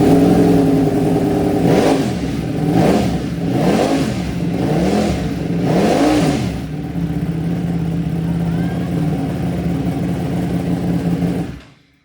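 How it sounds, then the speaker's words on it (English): Ducati Panigale V4 fitted with an Arrow race exhaust, loud and close, blipped through four quick revs before settling into a rough, steady idle that cuts off at the end. "Holy smokes, that is loud. That really sounds like a race bike now, doesn't it?"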